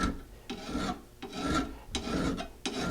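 A hand file rasps across a lawn mower blade clamped in a vise, with four or five separate scraping strokes separated by brief pauses, close and fairly quiet.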